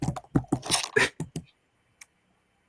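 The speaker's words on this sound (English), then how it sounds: "I'm just typing in a little message" Rapid clacking of computer keyboard keys, a burst of loud close keystrokes in quick irregular rhythm that thins out to a couple of isolated taps.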